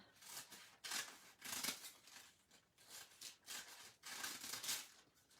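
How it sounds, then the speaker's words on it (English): Large scissors snip repeatedly through folded paper for a Thanksgiving stamping craft, a steady run of close, crisp crunching cuts in quick bursts, with no talking. "I'll take some bigger scissors and just cut"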